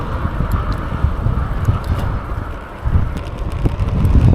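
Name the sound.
wind blowing into microphone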